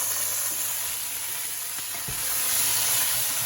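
A spoonful of sugar sizzles in a pan with rice for a fava bean and rice dish, a continuous crackling fry heard close up with a few soft stirring knocks and no talking.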